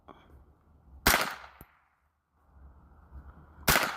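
Two loud gunshots about two and a half seconds apart at an outdoor shooting range, each a sharp close blast with a short ringing tail, and a faint metallic clink between them.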